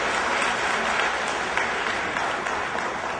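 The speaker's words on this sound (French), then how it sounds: "il faut l'applaudir très fort" An audience at a charity gala dinner claps loudly and steadily, dense sustained applause with no voices standing out.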